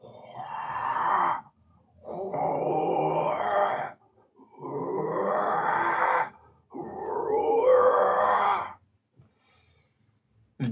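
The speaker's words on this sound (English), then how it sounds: "definitely an odd, almost breathing noise inside the stone" Odd, breathing-like noise from inside a magical stone, voiced by a person as four long, heavy groaning breaths with short pauses between them, close and fairly loud.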